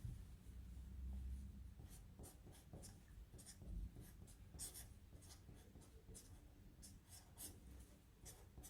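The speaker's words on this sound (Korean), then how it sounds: "자, 남자애도 마찬가지로 글씨는 네임펜으로 쓸게요" Lettering written with a name pen marker on paper for a simple drawing, a close, quiet run of short scratchy strokes in an irregular rhythm.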